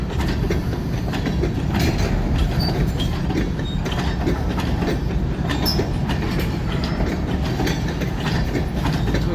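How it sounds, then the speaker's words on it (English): A long freight train rolls past at close range, a loud continuous rumble with rhythmic clickety-clack of wheels over rail joints and metallic rattling of cars, no voices. "This is a fairly long train."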